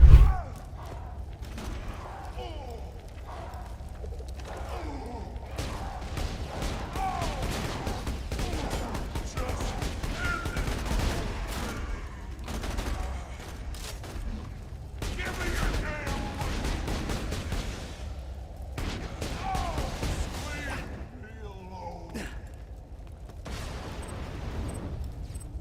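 Gunshots and booming blasts ring out during fast shooting and looting in Borderlands: The Handsome Collection on Nintendo Switch, with dense, repeated firing bursts and heavy thuds over a rumbling backdrop.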